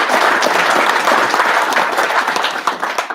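Luncheon club audience applauds a college baseball head coach at a Pro Football Hall of Fame luncheon, with dense, steady clapping from a large crowd filling about three seconds at close range.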